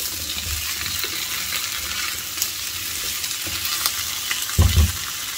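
Potatoes warm through in a frying pan with a constant close sizzle, light crackles and occasional stirring clatter, ending in a thump of the pan. No talking.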